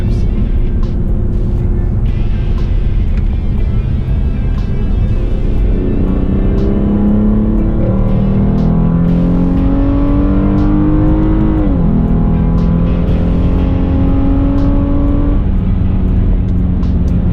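A 2016 Hyundai Genesis Coupe 3.8 V6 accelerates hard, its loud engine note rising through several upshifts in a continuous roaring sweep, heard from inside the car.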